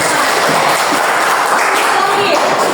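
Steady applause from a classroom audience for a student presentation group, continuous and fairly loud with voices mixed in.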